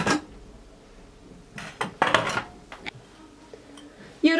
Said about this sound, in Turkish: Düdüklüyü önüme alıyorum.